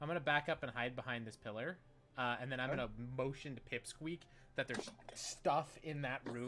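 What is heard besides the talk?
No distinct noise like a dog, phone or traffic.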